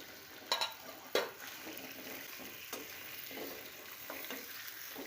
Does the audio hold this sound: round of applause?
no